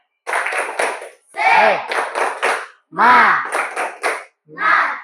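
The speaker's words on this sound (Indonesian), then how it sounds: "Kita lakukan tepuk semangat." A group performs a rhythmic spirit clap in bursts of clapping mixed with voices chanting along, with short pauses between the clapping phrases.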